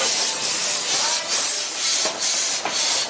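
Steady, loud hiss of steam from a train at the Efteling theme park, a continuous broadband rush with slight swells throughout and no talking.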